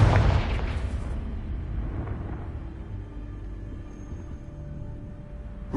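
A Confringo fire spell detonates in Hogwarts Legacy, one loud booming blast up front that rolls off into a long, fading low rumble.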